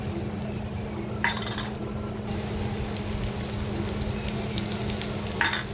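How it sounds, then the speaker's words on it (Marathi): Finely chopped onion frying in oil with coarsely pounded ginger and garlic for a dry prawn dish, a steady close sizzle with a low hum beneath and a couple of sharp metallic scrapes of a spoon against the pan. "कांदा व्यवस्थित आपण परतून घेऊया त्याचा कलर चेंज होईपर्यंत"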